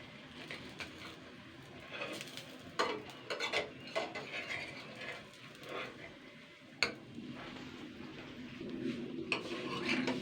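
Banana and wheat-flour pancakes cooking on an ungreased griddle are turned over: a faint, low sizzle runs beneath scattered scrapes and light metallic clinks of a spatula, with no talking.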